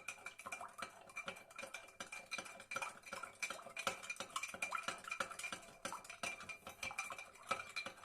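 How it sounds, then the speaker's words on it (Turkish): A spoon clinks steadily against a container while stirring sugar into a mix of lemon and tangerine juice, with rapid, busy, close metallic scraping and tapping throughout and no speech. "İyice karıştırıyorum ki özünü hazırlamış olayım."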